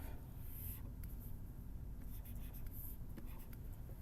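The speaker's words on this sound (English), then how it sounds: "then I draw the basic graph" A pen or pencil drawing a graph by hand on paper, with faint, continuous scratchy strokes and small ticks, quiet and close, without any talk.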